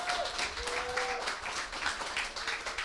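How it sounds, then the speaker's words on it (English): An audience at a panel discussion on mental health in the music industry breaks into steady applause, a dense wash of clapping that continues throughout. "Can we make a round of applause for our amazing panelists?"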